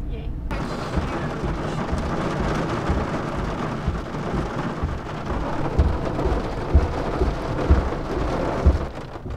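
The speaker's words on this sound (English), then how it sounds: "you might think that in the desert you are not gonna have to worry about rain, but it was full on hail about 15 seconds ago" A rainstorm in the desert, following hail, pours down as a loud, steady roar of rain on surfaces, with deep rumbling thunder-like swells building through the middle and end.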